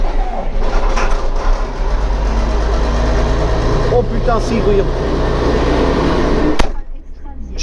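A car engine cranks and runs after the fuel pump primes, a steady low rumble close by with someone talking over it, then it cuts off sharply near the end.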